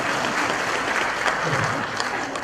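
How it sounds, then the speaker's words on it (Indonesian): An audience at a comedy performance breaks into steady applause, dense continuous clapping from many people heard close and loud throughout, with faint crowd murmur underneath. "Makanya kalau dia boleh tepuk tangan buat beliau."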